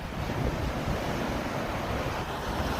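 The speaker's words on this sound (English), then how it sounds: "here's the beautiful waves of Lake Michigan, Oak Street Beach, Chicago, Illinois" Waves of Lake Michigan at Oak Street Beach, Chicago, in November, washing in as a steady, close wash of surf with constant wind rumble on the microphone and no talk.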